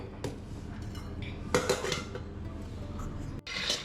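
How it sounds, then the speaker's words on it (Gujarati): Peanuts roast in a pan on the stove over a medium-low flame. Close metallic clinks and rattles of nuts and utensil against the pan come in irregular bursts, with no talking. "મસ્ત આવી રીતના મીડિયમ ટુ સ્લો ફ્લેમ પર દાણા શેકાઈ રહ્યા છે"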